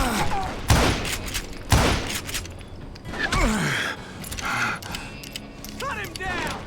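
Gunfire from the Call of Juarez: Gunslinger video game, several loud sharp shots cracking out in separate bursts against a busy background of game sounds and effects.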